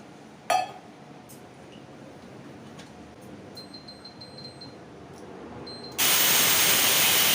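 Water poured into a pot of boiling raw green bananas for kofta curry: a single clink early on, a quiet stretch, then a sudden loud, steady rush of pouring at the end.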